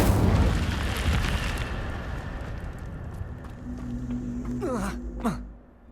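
The Incendio fire spell cast in Hogwarts Legacy, a loud whooshing burst of flame that fades into crackling, with faint tonal chimes near the end.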